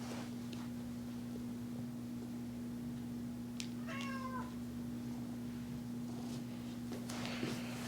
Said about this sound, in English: I feel like she's going to be meowing quite a bit.